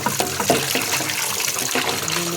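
Water is poured over food to soak it, giving a continuous splashing, gurgling flow with irregular bursts of liquid up close.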